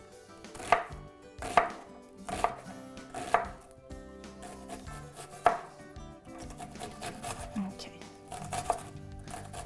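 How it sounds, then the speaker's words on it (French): A knife chops finely through onion and celery on a board, with a run of distinct, evenly spaced strikes, then quicker, softer cuts. A voice speaks briefly over the chopping. "Je coupe finement, voilà, comme ça."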